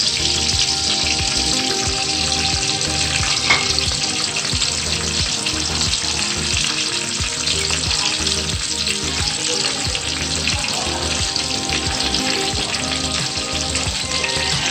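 Chopped garlic frying in a pan, a steady, loud, close sizzle of hot oil with occasional stirring scrapes, continuing unbroken throughout.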